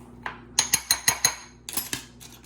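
A spoon stirs twice-baked potato mixture with butter in a bowl, giving a quick run of about six sharp clinks against the dish, then a softer scraping cluster.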